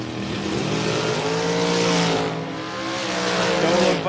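A dragster accelerates hard down a drag strip, its engine a loud, sustained roar with rising harmonic tones that dips briefly before surging again.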